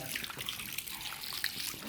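Water splashes and trickles steadily during a car wash, a continuous close pouring and dribbling sound with faint background noise and no clear talk.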